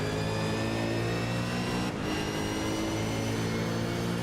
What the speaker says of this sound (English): You've got to really use that engine braking to pull this car up.